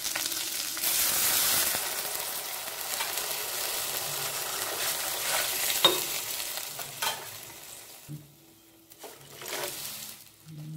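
Steady dry sizzling and scraping of rice semolina being roasted and stirred in a hot pan, continuous with a few louder clinks of the spoon.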